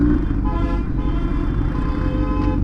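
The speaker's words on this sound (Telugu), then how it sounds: "ఇప్పుడు ఈ ట్రాఫిక్ జామ్ ఎక్కడ దాకా ఉంటుంది?" A dense traffic jam heard during an Independence Day superbike ride with a Kawasaki Z900, a loud continuous rumble of engines with a sustained car horn toot layered on top and no talking.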